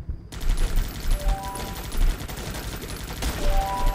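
Dense gunfire from the video game Guns Up, steady rattling volleys and machine-gun bursts packed closely together, loud and continuous for the whole stretch.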